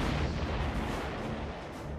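Sustained, dense roar of an F8 Crusader fighter's 20-millimeter cannon firing, a continuous low rumbling burst that fills the whole two seconds at steady loudness with no voices.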